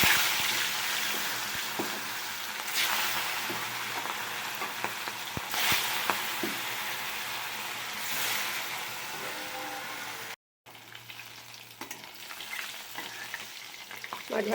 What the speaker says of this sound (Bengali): মাছগুলোকে আমি এক এক করে ভেজে নেব।